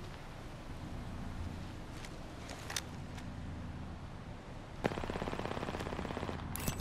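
Distant gunfire in Apex Legends, faint scattered shots early, then a sharp burst of rapid machine-gun fire near the end over a steady windy background hum.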